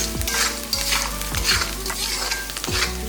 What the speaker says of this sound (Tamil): இது இந்த தேங்காய் எண்ணெயிலேயே நல்லா ஒரு பரட்டிடுங்க.